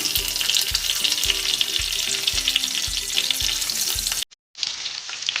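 Curry leaves and cumin seeds crackle and sizzle loudly in hot tempering oil for a bottle gourd handvo, with a regular low thumping underneath, briefly dropping out before the sizzle resumes.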